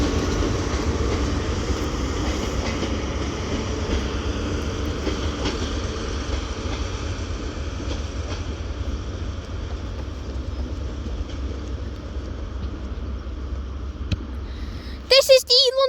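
Steady broadband rumble of an HST high speed diesel train, power car 43025 bound for Exeter, passing close by at Crewe, holding constant for most of the span before a short burst of louder clattering at the end.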